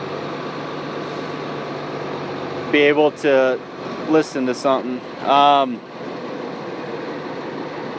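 A truck engine idles with a steady low hum during a walkaround inspection before brake tests, constant throughout while someone speaks briefly over it.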